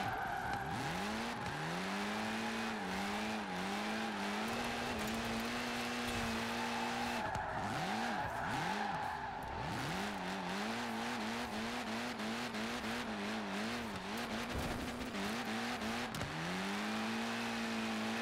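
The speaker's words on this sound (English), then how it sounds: "I love drifting and, like, trying to stay in the lane." A car drifts in Forza Horizon 4, a Lancia with its engine droning and rising and falling steadily as long tire squeals run alongside, loud and close throughout with no talk.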